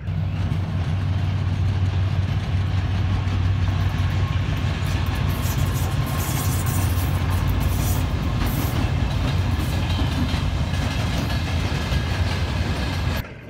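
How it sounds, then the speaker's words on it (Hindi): A train rumbles steadily along the rails for the whole stretch, loud and close, a dense low roar with faint rhythmic clatter from the wheels and no talking over it. "कि ट्रेन चल रही है।"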